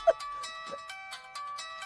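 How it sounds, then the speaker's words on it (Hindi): A phone rings with a patterned electronic ringtone of short repeated tonal bursts, close and clear, with no talking over it. "सुरेश कुमार सर, शास्त्री को फोन लगा"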